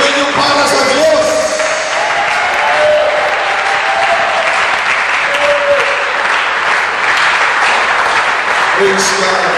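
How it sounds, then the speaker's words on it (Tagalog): A church congregation at a Sunday service gives sustained applause, dense and even clapping that runs the whole length with some voices or tones rising above it now and then. "Palakpakan natin ang Panginoon, yung totoong palakpak."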